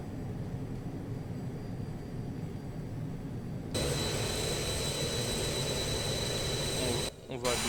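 An Embraer Phenom 100 jet sits on the runway before takeoff with its engines giving a steady whining hum that grows louder and brighter about halfway through and dips briefly near the end.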